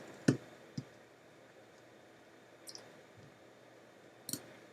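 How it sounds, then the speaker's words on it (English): Soft, sparse clicks of keys as a password is typed on a computer keyboard, a handful of faint separate taps spread out with quiet pauses between them. "And then we need to type in the password that was set."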